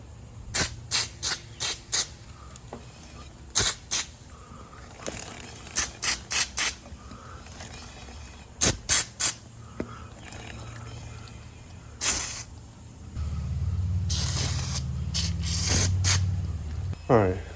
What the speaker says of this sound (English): let's lube up this drive chain